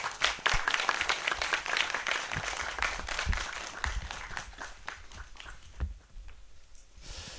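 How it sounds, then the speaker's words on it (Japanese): A conference hall audience in Japan, gathered for a panel on radioactive substances in food, applauds with dense, steady clapping that fills the room, then thins and tapers toward the end. "会場全体に拍手をお願いいたします"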